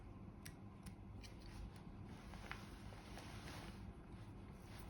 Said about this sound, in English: And trim up some of the longer fibres